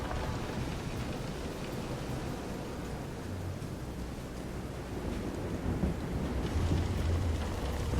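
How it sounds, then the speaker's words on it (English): A storm at sea in the video game Visions of Mana: steady rain and wind noise, with low thunder rumbles swelling louder toward the end, and no voices. "This is some storm."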